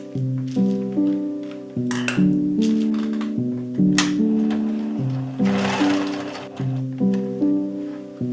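A sewing machine stitches pieces of hoodie fabric while details and accessories are attached, its motor humming in short repeated runs with brief pauses between them and light clinks of metal.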